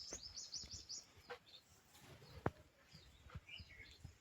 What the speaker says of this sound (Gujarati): પોપટ અને મેના બે કેવા પાણી પીવા આવી ગયા